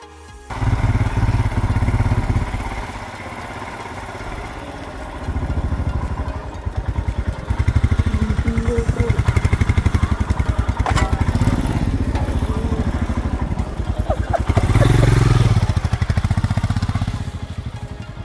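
A motorcycle engine runs steadily on a road trip toward Munnar, a continuous mid-pitched drone that rises and falls slightly as the bike rides along, with some clatter and wind and no talk.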